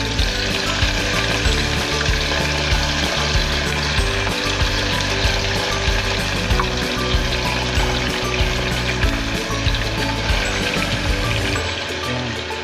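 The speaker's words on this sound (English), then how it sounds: "at may mainit na tayong mantika dito. Lagay na natin yung ating pork meat." Pork meat frying in hot cooking oil for crispy fried pork with salt and pepper, a loud dense sizzle and crackle that carries on steadily throughout, close up with no talking.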